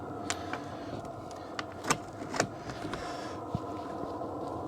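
Off-grid generator exhaust giving a steady low hum outdoors, continuous and fairly quiet, with a few faint knocks and clicks nearby.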